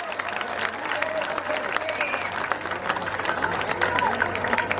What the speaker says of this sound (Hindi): एक बार खड़े होकर झुककर आशीर्वाद लीजिए और निरहुआ जी को ताली बजाकर स्वागत करिए।